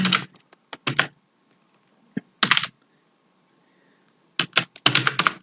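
Short bursts of typing on a computer keyboard, quick clusters of crisp key clicks separated by silent pauses, close and clear with no talking.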